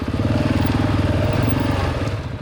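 A motorcycle engine putters along at low speed, a steady, throbbing rumble with no voices, captured by a DJI camera's internal microphone.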